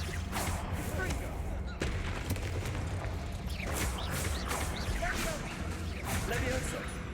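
Repeated Confringo fire-spell blasts burst through a Hogwarts Legacy duel, several booming impacts spread across busy combat noise with voices mixed in.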